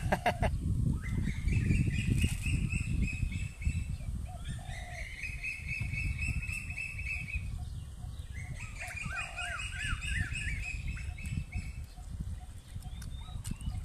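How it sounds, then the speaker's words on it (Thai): Birds singing outdoors in a natural setting, with repeated bright chirps and warbling phrases over a steady rustling background, no talking. "สียงนกร้องเพลินเพลินดีเหมือนกัน"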